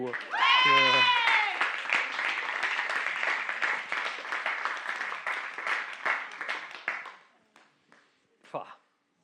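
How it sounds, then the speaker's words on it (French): A church congregation applauds, with a short sung or spoken phrase at the start, then steady clapping that thins into scattered claps and fades out near the end. "On peut applaudir Jésus, je crois."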